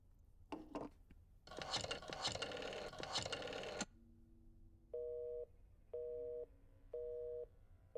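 In the video game Black Mirror II, a telephone is handled with clunky rubbing and clicks, a short dial tone follows, then three evenly spaced busy-signal beeps repeat steadily and clearly.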